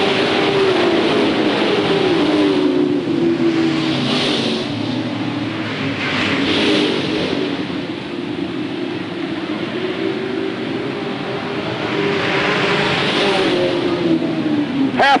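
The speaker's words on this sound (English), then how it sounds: "Blake hammers on the rear end in the number 14 Source machine" Sportsman feature race cars roar around Hales Corners Speedway in 1993, engines droning continuously and swelling as they pass, a loud steady race-track din heard over a distance with announcer-style commentary faint underneath.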